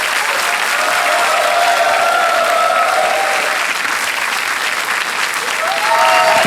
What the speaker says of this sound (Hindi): तालियां जोर से बज जाए इनके लिए।